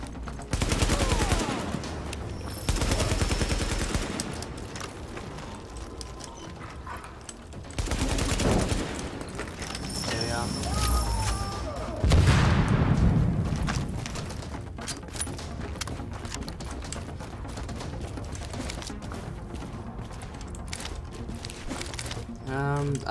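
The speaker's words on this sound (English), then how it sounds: "Someone's shooting at me." Bursts of automatic gunfire in Tom Clancy's The Division at the Hudson Refugee Camp, several separate volleys of rapid shots with quieter gaps between them, while a player talks intermittently over the game sound.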